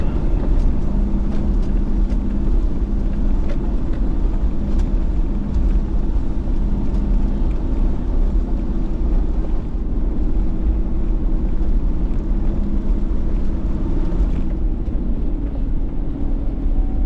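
A 4x4's engine drones low and steady in first gear, low range, climbing a steep track, laboring evenly with a continuous rumble and some wind noise over the microphone.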